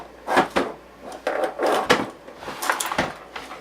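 Wooden drawers in a craft workspace slide open and shut repeatedly during a search for a protractor, a close series of rattling, scraping bursts in an uneven rhythm.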